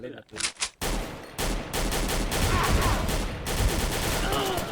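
The Silver ARX16 rifle in the shooter XSHOT fires in rapid, loud, close bursts: a few short stutters at first, then long sustained strings of shots with brief pauses between them.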